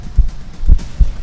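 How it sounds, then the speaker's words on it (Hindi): Low, thumping heartbeat sound effect from a Hindi horror audio story, three heavy beats spaced roughly half a second apart, close and alone without speech. "धड़कनें तेज हो चली थी"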